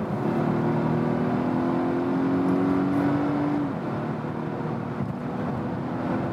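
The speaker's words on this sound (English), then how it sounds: "you can still get a decent acceleration just by kickdown" A Volvo estate in hybrid mode accelerates hard on kickdown at high speed, its engine note rising steadily, then settling into a continuous whirring drone of road and wind noise at about 140 km/h.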